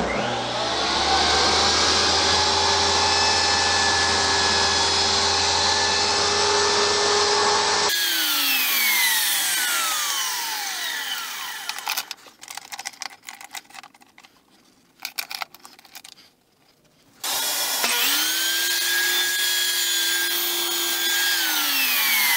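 A saw cuts pieces of black Alumilite resin blank in a woodturning shop, a loud steady whine with a high tonal ring, dropping into scattered rattling cuts midway before the blade spins up again, with no talking.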